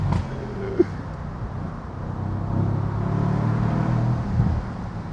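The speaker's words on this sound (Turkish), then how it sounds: "Egzozu duyuyor musunuz?" A Mercedes-AMG C63 S Cabriolet drives through a corner on roads near Trieste, Italy, by the Slovenian border, its exhaust a low, steady rumble with a brief swell, moderately distant and fairly quiet throughout.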